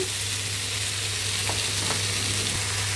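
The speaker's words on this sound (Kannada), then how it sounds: "ಸ್ವಲ್ಪ ಹೊತ್ತು ಎಣ್ಣೆಯಲ್ಲೇ ಬೇಯಬೇಕು ಆಲೂಗೆಡ್ಡೆ ಒಂದು ಮೂರು ನಿಮಿಷ ಹುರಿದಾಗಿದೆ ಇವಾಗ ಪಾಲಕ್ ಸೊಪ್ಪು ಹಾಕ್ಕೊಳ್ಳೋಣ" Potatoes and spinach frying in oil in a pan for a mixed vegetable curry. The sizzle is steady and close, with occasional stirring clicks and a constant low hum underneath. Nobody speaks.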